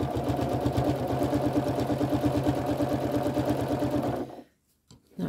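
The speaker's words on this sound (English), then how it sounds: "So I'll start sewing again." Domestic sewing machine stitching quilt binding while forming a mitered corner, running in a steady, fast, even rhythm close up for about four seconds, then stopping, with a couple of faint soft handling noises after.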